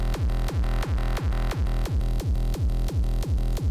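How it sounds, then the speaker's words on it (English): Electronic drum beat for a song intro repeats a deep booming kick and sharp snare hits in a steady, even loop, loud and upfront with no voices. "Originally, the song was gonna start off with just this beat just going"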